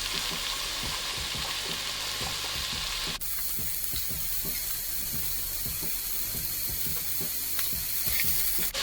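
Carrots cook in a pot for beef bone broth, giving a steady close sizzle and bubbling with occasional stirring clinks, with no voices over it.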